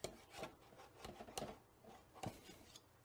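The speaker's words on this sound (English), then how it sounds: "So I'll just run my butter knife around the outside" A butter knife is run around the inside of a loaf pan holding freshly baked whole wheat sourdough, giving a series of short, close scraping and rasping strokes with brief pauses between them and no talking.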